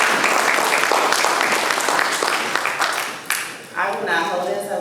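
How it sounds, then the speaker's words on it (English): Audience at a public safety community forum gives a panel a round of dense, sustained applause that fades toward the end as a voice begins speaking. "give our panel a round of applause"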